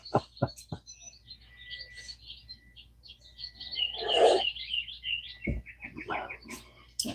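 Birds chirp and call through a dawn setting, with repeated short high tweets scattered across the scene and a louder burst of song near the middle; a faint low hum lies underneath.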